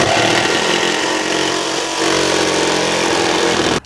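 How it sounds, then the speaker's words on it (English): A jigsaw cuts through the metal body of a Promaster van for a window install, a loud, close, continuous buzzing rasp that holds steady for a few seconds before cutting off abruptly. "The other really nice thing about the jigsaw is that you can turn a corner with it"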